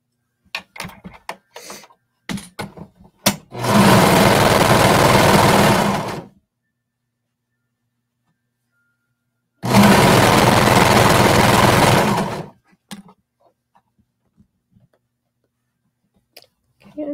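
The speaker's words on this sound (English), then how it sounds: "we're going to sew around the curve here with 3-inch seam allowance" A sewing machine stitches around the curve of a bralette with a 3-inch seam allowance, running in two steady bursts of about two and a half seconds each, separated by quiet handling clicks and rustles.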